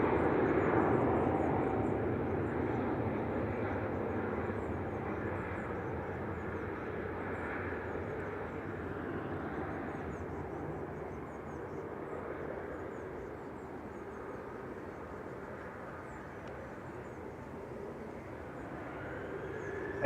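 A large airliner, A6-EOP, arrives from Dubai at Manchester Airport; a steady, distant jet roar rumbles for twenty seconds, swelling at first and then slowly fading.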